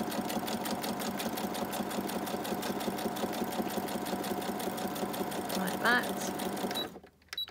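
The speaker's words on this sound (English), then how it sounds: "you're just going to go round your whole envelope like that, stitching your vellum on" A sewing machine stitches a vellum sheet onto a paper envelope, a steady rapid mechanical chatter running close and continuous before stopping abruptly near the end, with a voice speaking briefly over it.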